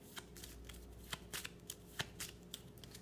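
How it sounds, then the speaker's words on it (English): A deck of cards for the board game Life: School Years is shuffled, a quick run of soft papery riffles and flicks, close and quiet, with no talking. "So what I do is I take my discard pile, shuffle it"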